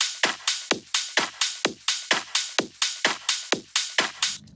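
Kick drum loop in Logic with the low frequencies cut away completely, leaving a thin, clicky, evenly repeating thump about four hits per second, steady and upfront with nothing else playing.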